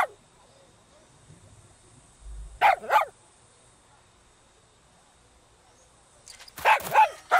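A dog in the video game Far Cry 6 barks in two short pairs of sharp, mid-distance barks, separated by a quiet stretch with faint background hum.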